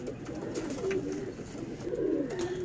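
Highflyer baby pigeons coo steadily at close range, soft rolling calls rising and falling in two swells with no talking over them.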